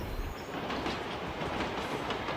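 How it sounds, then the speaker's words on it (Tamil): A train in a GTA game rolls past nearby, a steady rumble with rhythmic clickety-clack from the wheels on the rails, fairly quiet and continuous, with no speech. "ட்ரெயின் வருது."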